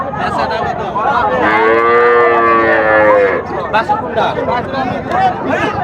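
Cattle moo loudly at a cow market in Chandaikona, Bangladesh, where calves and dairy cows are traded; a long drawn-out moo rings out over the steady chatter of a crowd and people talking nearby.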